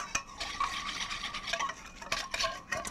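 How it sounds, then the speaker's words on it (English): Shredded napa cabbage slaw being stirred and tossed in a bowl, a soft, close, continuous rustling and scraping with a few sharper clicks of a utensil against the bowl. "so we'll mix this together"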